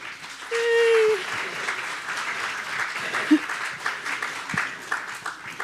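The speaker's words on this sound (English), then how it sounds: "So if you can just do a real quick applause for the parents." A crowd at the PRISM Project of Fishers spring show opening gives quick applause for the parents: a moderate, even patter of clapping throughout, with a brief voice near the start and a few sharper claps.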